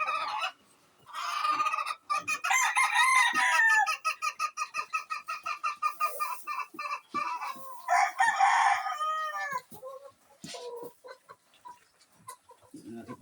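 Chickens cluck in quick, rhythmic bursts, and a rooster crows loudly and nearby. The calls come and go with short pauses between them.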